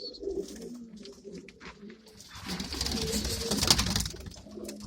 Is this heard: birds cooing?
yes